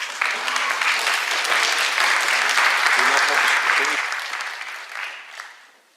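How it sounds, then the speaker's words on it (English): An audience at an entrepreneurship and clean tech event applauds the keynote speaker with loud, steady clapping that holds for several seconds and then fades away, with a voice briefly audible underneath. "Give her applause."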